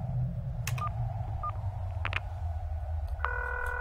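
Telephone keypad tones from a payphone in the Flash game Concluse: a few short, spaced dialing beeps over a steady low hum, ending in a sustained two-tone ring signal.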